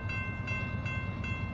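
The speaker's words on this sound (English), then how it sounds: "appears to be another freight train, but it's going a little slow" A slow BNSF freight train rolls past at close range, northbound on track 2 toward Castle Rock, giving a steady, loud rumble with sustained tonal ringing above it.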